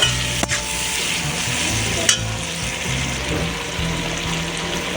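Potato pieces sautéing in oil in a pan for a fish and bottle-gourd-greens curry, a loud steady sizzle close by with a couple of sharp utensil knocks against the pan.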